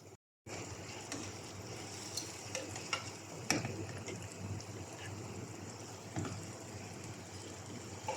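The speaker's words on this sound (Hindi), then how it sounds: "हम चिकन को 8 से 10 मिनट मीडियम फ्लेम पर फ्राई करेंगे" Chicken pieces for tandoori chicken tikka fry in a pan over a medium flame, giving a steady, fairly loud sizzle with a few sharp clicks and taps of the pan.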